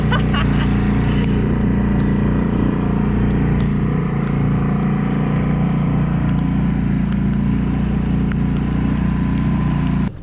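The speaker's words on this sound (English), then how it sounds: "got the engine running" A dinghy outboard engine runs continuously at a steady, loud drone with a deep rumbling hum, close by and unbroken for about ten seconds before cutting off abruptly at the end.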